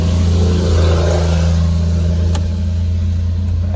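A 2003 Mitsubishi Eclipse with 130K miles, treated with Sea Foam, pulls forward under acceleration on a spirited drive, its engine a steady, close, loud hum with strong low harmonics and no talk over it.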